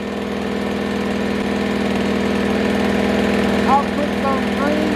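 A WEN 2000 inverter generator engine runs at a steady, even drone close by, with a constant low hum and a few faint chirps near the end.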